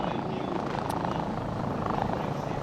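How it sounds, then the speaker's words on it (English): Helicopter rotor whirring overhead above a girls' under-18 touch rugby match between England and South Africa, a loud, steady, continuous drone filling the whole stretch. "the helicopter's whirring above us"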